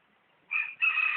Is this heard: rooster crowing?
yes